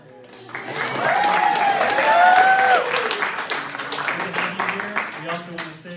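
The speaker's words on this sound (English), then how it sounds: "just raise your hand and we'll clap for you" Sustained applause from an audience at a secondary school graduation, loud and steady for several seconds, with voices and some cheering mixed in under the clapping.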